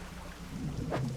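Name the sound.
rain and thunder in video game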